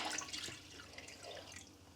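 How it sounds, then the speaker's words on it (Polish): Water poured onto a small plate set in a shrimp aquarium gives a faint, steady trickle and splash with a few drips, running alone for a couple of seconds. "Woda się nalewa i kształtowanie się nie niszczy"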